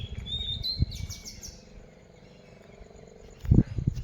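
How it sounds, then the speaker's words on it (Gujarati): Lapwings calling over a farm field, a few sharp chirping cries early on, with cattle resting nearby and low rustling and thuds close by. "ખેતરમાં ટીટોરિયું દેકારો કરે"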